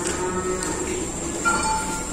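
Cattle low at a livestock market in Indonesia where breeding cows and calves are sold, the moos drawn out and fairly faint over a constant murmur of background noise.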